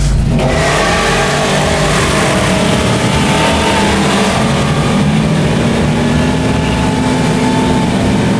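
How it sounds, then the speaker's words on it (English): A street racing car engine roars loudly and continuously under a pressed gas pedal, a dense, steady, close growl with rising engine tones and no voices. "you step on the gas pedal and the motor comes to life"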